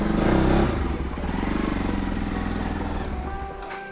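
A motorcycle engine fires and runs close by, loud at first with a rough burst, then settling into a steady, slightly uneven running rumble that fades a little toward the end.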